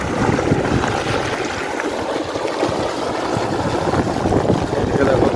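Floodwater rushes across village fields after three days of nonstop rain, a dense, steady roar of flowing water that stays loud and close throughout.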